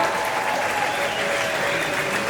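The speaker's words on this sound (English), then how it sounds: "Give them a round of applause." A theme-park show audience at Walt Disney World's Hollywood Studios claps steadily, a dense, even wash of applause that holds at the same level throughout.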